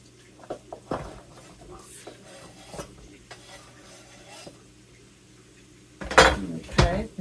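Large carrots tumble into a soup pot holding garlic and onions, with scattered light clinks and knocks followed by two louder clattering bursts near the end.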